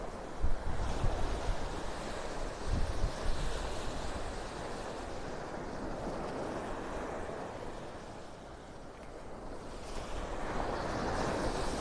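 Ocean waves wash onto Vanderbilt Beach in North Naples, Florida, a steady soft surf hiss with gentle swells, mixed with light wind noise buffeting the microphone.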